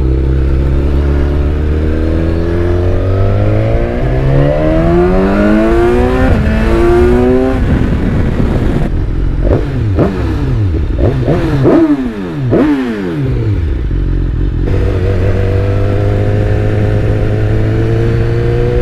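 A BMW S1000XR motorcycle with an Akrapovic exhaust revs hard through repeated climbing pulls and shifts, loud and close, with a raw roaring tone that rises in pitch, drops, then settles back to a steady drone.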